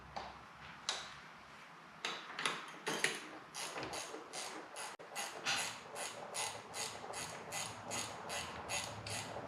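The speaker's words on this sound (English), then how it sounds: "these Milwaukee ratcheting wrenches fit in most small places." A Milwaukee ratcheting wrench works on a 1979 Harley-Davidson Low Rider Shovelhead, giving scattered clicks at first, then a steady run of quick, close ratchet ticks with no talk.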